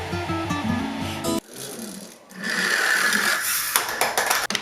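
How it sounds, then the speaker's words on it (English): A 3D printer works on a model, its stepper motors whirring in quick shifting tones at first, followed by softer mechanical rustling and whirring. "While the printer's working away"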